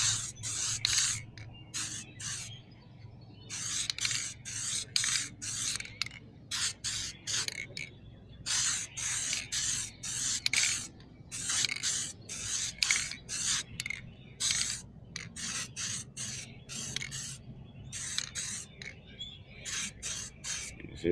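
Repeated short bursts from a hand spray bottle being pumped onto a Mercedes-Benz C-Class 230 1.8 engine during cylinder head installation, a steady rhythm of hissy squirts in clusters with brief pauses, close by over a low background hum.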